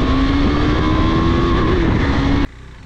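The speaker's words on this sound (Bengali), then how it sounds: "আজকে আমি যেই বাইকের রিভিউ ভিডিওটা নিয়ে চলে এসেছি সেটা হচ্ছে কেটিএম ডিউক 390" A KTM Duke 390 motorcycle with a single-cylinder, oil-cooled four-stroke engine runs steadily up close with a loud, even hum, then cuts off abruptly near the end.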